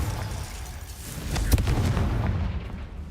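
A Confringo blasting spell in Hogwarts Legacy lands as a sharp explosive crack midway, surrounded by rumbling game noise and fading debris.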